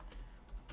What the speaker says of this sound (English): I'm gonna type down what is